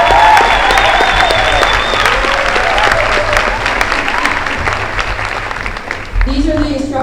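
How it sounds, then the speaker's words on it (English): Loud, continuous applause from a graduation ceremony audience, a broad crowd of clapping with some whistles near the start, tapering off as a voice begins speaking over a microphone at the very end. "Please give them a big round of applause"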